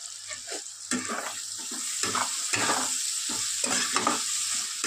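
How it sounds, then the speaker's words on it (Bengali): Thinly sliced onions with a little salt sizzle in a pan for prawn pulao while a spoon scrapes and stirs in repeated strokes. Frying noise stays steady underneath. "পেঁয়াজটা একটু ভাজা করে নেবো"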